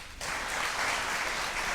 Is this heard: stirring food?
no